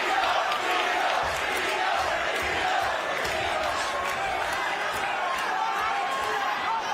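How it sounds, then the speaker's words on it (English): At a boxing match between Taylor and Teofimo Lopez, a large arena crowd chants and roars continuously while commentators talk over the din. "that's the first time I heard the crowd chant T.O. T.O."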